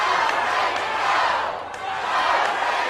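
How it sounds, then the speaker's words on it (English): Wrestling crowd at the TNA Asylum, many on their feet, roaring and chanting for a wrestler during a dog collar match; a dense, loud, continuous wall of voices with a brief dip before swelling again. "Crowd at the TNA Asylum, many of them on their feet, chanting for Raven."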